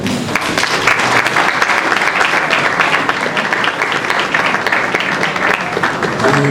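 Sustained applause from a large crowd at a youth league event of a political party, a dense, even wash of clapping that holds steady throughout.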